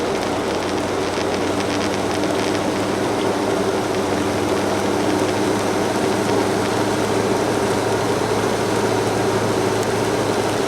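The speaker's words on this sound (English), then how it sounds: "This is the first time I've driven the truck" A 1984 Chevy K20 truck with new shocks and a 4-inch lift driving on the road, a steady, dense rumble of engine and road noise heard from inside, continuous and loud with no talk.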